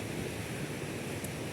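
A river in Spain flows past in a steady, unbroken rush of water, close and even throughout with no other sounds.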